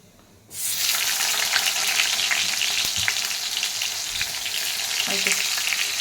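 Tomatoes drop into a hot frying pan and burst into a loud, steady sizzle after a brief quiet moment, the crackling frying continuing close and alone.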